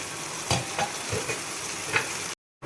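Hilsa biryani gravy is sautéed in oil until the oil separates, with a steady frying sizzle and a few spatula scrapes before the sound cuts out briefly near the end.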